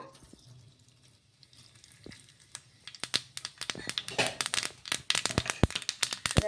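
Sesame seeds dropped into hot oil in a pan crackle and pop, starting faint and building into sharp, rapid close-up sizzling bursts over the last few seconds.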